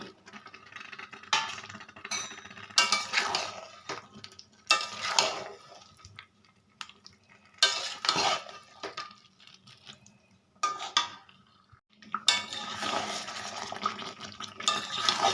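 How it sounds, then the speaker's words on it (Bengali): Boiled potatoes stirred into oily spice masala in a pan for aloo dum, heard as bursts of scraping and clinking that come and go with quiet gaps between them, close by and moderately loud, with no talking. "আলু দিয়ে মশলা দিয়ে খুব সুন্দর করে কষিয়ে নিয়েছি।"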